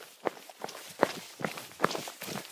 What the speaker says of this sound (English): let's run back real quick